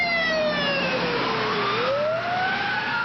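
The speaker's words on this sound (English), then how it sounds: "Just as soon as we got him in the ambulance, I started chest compressions on Gil." An ambulance siren wails steadily and close, its pitch sliding down and then climbing back up over constant road rumble, as the ambulance rushes a firefighter in cardiac arrest to the hospital.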